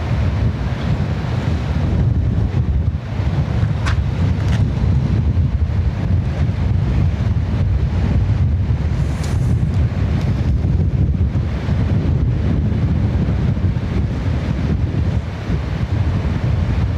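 Strong wind buffets the microphone outdoors at Lanzarote Airport, a constant low roaring rumble with gusty surges and no break, loud and close, with faint distant aircraft noise buried beneath.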